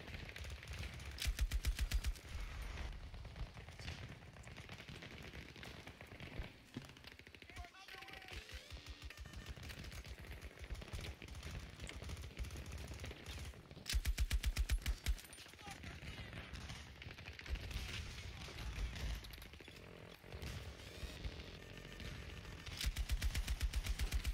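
Bursts of light machine gun fire from an LMG in Battlefield 2042, repeated sustained volleys under a constant wash of battlefield noise, with someone talking over much of the shooting.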